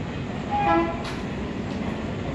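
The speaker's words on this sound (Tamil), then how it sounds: "இந்த ட்ரெயின் சவுண்ட் வேறு திடீர்னு கேட்கும்" A low rumbling train rolls past with a brief horn-like tone early on, steady rail noise continuing throughout.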